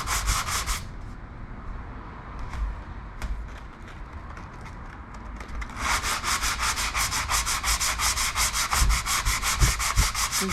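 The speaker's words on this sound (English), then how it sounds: "Just sand a little bit, don't sand too much, and just keep checking on it." Hand sanding scrapes across the painted surface of a motorcycle Frisco gas tank in close, steady back-and-forth strokes, lighter at first and then a brisk rhythmic run of rasping passes.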